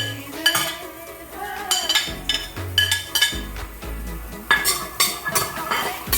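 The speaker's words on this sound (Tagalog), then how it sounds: "Now, we're sauteing it greaseless." Garlic and onion are sautéed without oil in a 3-quart Saladmaster Culinaire pan over a medium flame; repeated metallic clinks and scrapes of a utensil against the pan ring out close by in an irregular rhythm.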